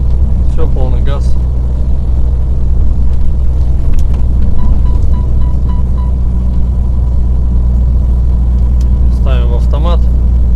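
Dongfeng truck engine running at full throttle, a loud deep steady rumble heard from inside the cab, with someone talking briefly at the start and again near the end.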